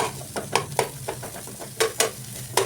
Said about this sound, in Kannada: ಇದನ್ನು ಸ್ವಲ್ಪ ಎಣ್ಣೆ ಒಳಗೆ ಹಿಂಗೆ ಫ್ರೈ ಮಾಡ್ಕೊರಿ ಫ್ಲೇಮ್ ಲೋನೊಳಗೆ ಫ್ರೈ ಮಾಡ್ಕೊರಿ